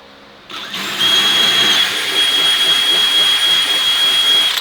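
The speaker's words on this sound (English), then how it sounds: "I'm just gonna drill right through" A power drill starts up and runs steadily at high pitch, a loud continuous whine with grinding as it bores through metal on an enclosed trailer.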